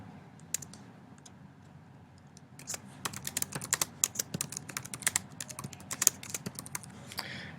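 An email subject line being typed on a computer keyboard: quick, irregular runs of close, crisp key clicks that grow busier and louder partway through, with no voices.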